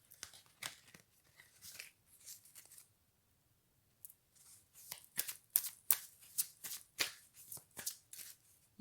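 Tarot cards being shuffled by hand, bursts of crisp riffling and flicking in quick clusters, a short quiet gap, then denser rapid shuffling, close and fairly loud, with no talk.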